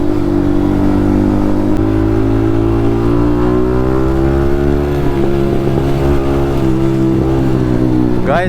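Yamaha MT-15 motorcycle fitted with an Akrapovic exhaust while riding on a road, a loud, steady engine drone that slowly rises and falls in pitch, with a brief sharper rev near the end.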